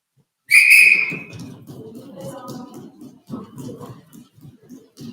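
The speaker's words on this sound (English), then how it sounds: "this last double whistle is going to be our last one" One sharp, piercing whistle blast sounds near the start of a workout class, followed by low, muffled voices and movement.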